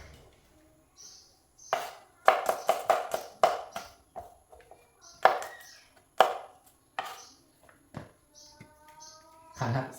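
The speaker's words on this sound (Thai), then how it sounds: "อันนี้หั่นกระเทียมหั่นกระเทียมใส่ลงไปเลย" Knife chopping garlic on a cutting board for a Thai spicy shrimp salad, a series of sharp, close taps in quick bursts with brief pauses between them.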